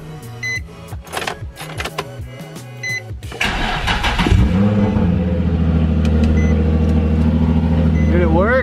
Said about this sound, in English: I'm going for the first start and going to see if it moves.